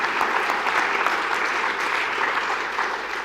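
Audience at a summer logistics forum breaks into close, loud clapping, a dense and even patter of many hands that continues steadily without any talk over it.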